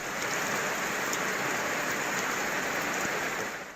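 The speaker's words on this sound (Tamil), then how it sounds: "இடி மின்னலுடன் பலத்த மழை பெய்தது" Heavy rain pours down steadily and loudly in Sivaganga district, a dense, even hiss of drops hitting surfaces that lasts throughout, with no voices present.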